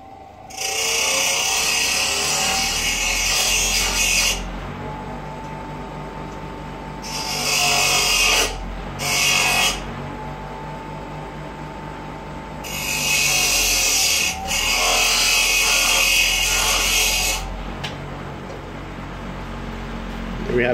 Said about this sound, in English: What I'll do now is I'll rub these through bench grinder